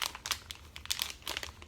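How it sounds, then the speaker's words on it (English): Soft plastic crinkling in short irregular bursts, close and quiet, as a thin plastic piping bag is handled and squeezed while a coupler is inserted. "we will insert the coupler directly into our piping bag"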